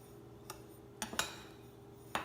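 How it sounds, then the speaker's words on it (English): A spoon clinks against a bowl while pie spice and salt are stirred together for a cherry pie, giving a few sharp taps at uneven intervals over quiet room tone. "You're going to stir those together"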